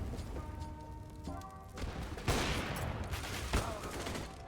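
Gunfire from a CS:GO round on the Mirage map comes in a few sharp cracks and bursts over a busy game backdrop, with one louder shot standing out near the end.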